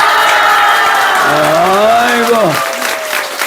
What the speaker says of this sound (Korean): 오늘 나온 사람들 박수 한번 쳐요.